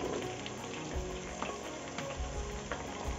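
Cauliflower, potatoes and peas frying in a cooker pot for veg biryani, a continuous bright sizzle and crackle with faint stirring scrapes, close and steady, no voices.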